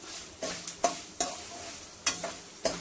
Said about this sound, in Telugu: లేత కరివేపాకు మూల సౌండ్ ఎక్కువ